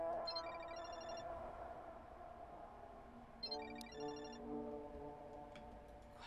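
A phone ringtone from the horror video game Parasocial rings in short repeated electronic bursts, quiet and seemingly heard from a distance, with two phrases separated by a pause and no talking over it.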